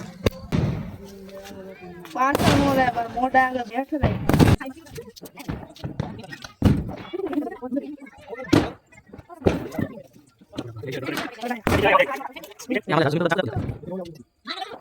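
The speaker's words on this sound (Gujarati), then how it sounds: "એક ભાઈબંધનો છેલ્લો મરચી બોમ્બ જોઈ જઈએ" Several sharp, loud bangs of chili bomb firecrackers go off one after another during Diwali, scattered between excited talking and shouting from people standing nearby.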